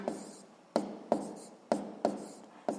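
Quiet pen strokes on paper as a physics exercise answer is written down, a series of short scratchy marks and taps spaced about half a second apart, close and soft with no talk.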